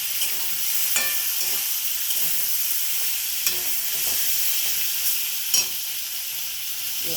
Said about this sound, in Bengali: সামনে একটু জিরে গুঁড়ো দিয়ে দিলাম, ভালো করে নাড়িয়ে নিই।